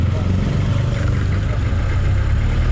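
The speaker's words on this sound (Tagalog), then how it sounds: "Grabe traffic." Idling car engines fill a traffic jam with an unbroken, loud, close-up low hum and steady rumble, with a voice faintly mixed in.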